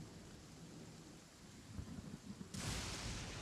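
A thunderclap from a thunderstorm in the Genshin Impact video game breaks suddenly and loudly over steady rainfall, after a few seconds of low rumbling.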